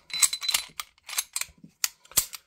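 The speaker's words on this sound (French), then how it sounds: "on vient remettre la culasse en place" Metal parts of a Springfield Echelon pistol clack together as the slide is fitted back in place, a series of sharp close clicks and snaps with brief gaps and no talking.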